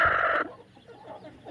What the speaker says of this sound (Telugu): కోడి చూడు ఎట్లుంది.